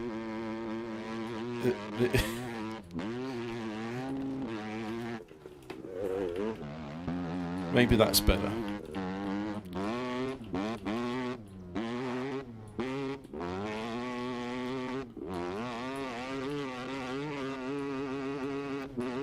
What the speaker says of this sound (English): I really wish I could put a silencer on this dirt bike.